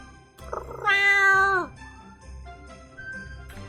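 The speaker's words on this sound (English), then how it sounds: "Kitty lets out a happy yowl" A cat lets out a rising, sustained happy yowl in the Choices: Stories You Play game The Elementalists, clear and close for about a second, with faint background music around it.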